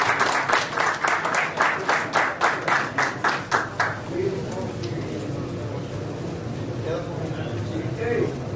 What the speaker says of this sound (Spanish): Démosle un fuerte aplauso a Fernando Tamames.